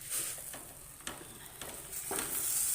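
Methi paratha fries in ghee on a hot pan, giving a steady bright sizzle with a few soft clicks and pops near the middle, then swelling louder toward the end.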